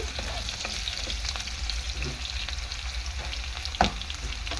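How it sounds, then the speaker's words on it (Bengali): Potatoes deep-fry in oil until reddish for a vegetarian aloo paneer dish, giving a dense, continuous close sizzle with small crackles and one sharper pop near the end. "আলুটাকে আমি একটু লালচে লালচে করে ভেজে নেব"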